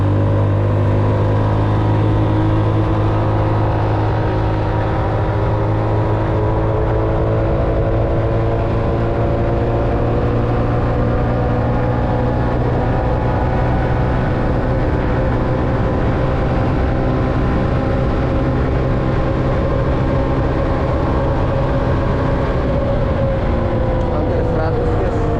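An automatic scooter fitted with racing rollers revs hard and holds a loud, steady engine drone with a slowly rising pitch, close up and continuous the whole time.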